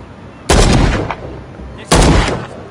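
Two loud, sharp gunshot bursts from a video game, each hitting hard and trailing off, the second coming about a second and a half after the first.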